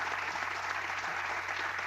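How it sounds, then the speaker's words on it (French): A TV talk show studio audience applauds in a steady, dense wash of clapping at moderate volume. "C'est pas tout le monde qui applaudit."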